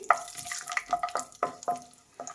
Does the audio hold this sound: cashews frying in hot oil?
yes